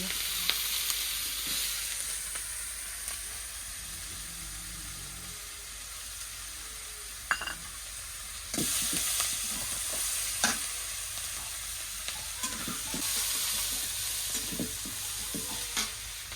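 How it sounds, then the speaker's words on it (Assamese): Tomatoes frying in hot oil left from frying fish make a continuous crackling sizzle that swells partway through, with occasional light taps from stirring nearby. "বিলাহীখিনি ভাজি লওঁ"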